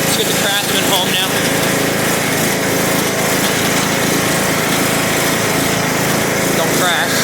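A Craftsman riding lawn mower engine drones steadily and loudly up close, a continuous buzzing run with brief mechanical rattles near the start and end.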